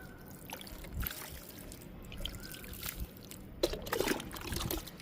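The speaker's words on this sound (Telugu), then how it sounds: "వాటర్ ఇస్తున్నానండి పొగడబంతి విత్తనాలకి." Water poured slowly onto freshly sown marigold seeds gives a faint, steady trickle over quiet background noise, swelling briefly near the end.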